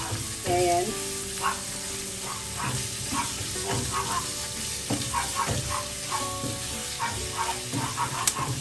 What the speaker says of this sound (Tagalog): habang niluluto natin yung pork